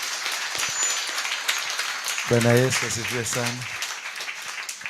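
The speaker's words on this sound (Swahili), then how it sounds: "Mungepiga makofi mazuri kuliko hivi." A church congregation at an overnight crossover service claps along in a steady wash of applause, heard under a preacher's loud voice addressing the crowd.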